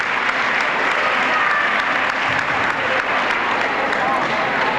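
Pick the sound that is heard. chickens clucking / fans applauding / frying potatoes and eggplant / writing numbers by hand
fans applauding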